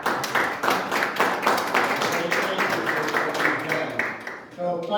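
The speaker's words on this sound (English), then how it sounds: "give her an applause" Meeting attendees clapping for a retiring colleague after twenty years of work, a modest round of hand claps with distinct individual claps, a voice speaking over it, fading out near the end.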